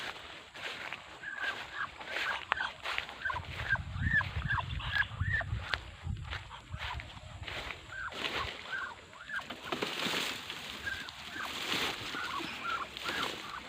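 A hen and chicks cluck and peep in a steady stream of short calls, with low rumbling background noise.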